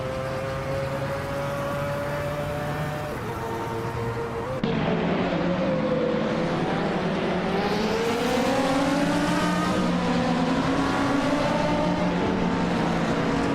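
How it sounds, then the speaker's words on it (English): Race car engines in a Hot Wheels racing video game whine and drone steadily, several pitches overlapping, with engines rising and sweeping upward as the cars accelerate, moderately loud and without talk. "Let's see if those cars can start their engines and hit the gas."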